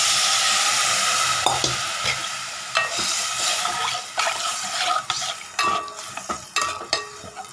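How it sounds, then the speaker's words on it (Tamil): Mochai bean cooking water is poured into a pan of stem amaranth greens curry, giving a steady close hiss at first, followed by stirring, scraping and sharp clinks of a utensil against the pan. "நம்ம மொச்சை வேக வச்ச தண்ணி இருக்குங்க, அதை எடுத்து ஊற்றிக்கலாம்."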